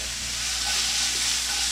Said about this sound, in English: Throw in your mushrooms and your carrots and your onions and let everything cook.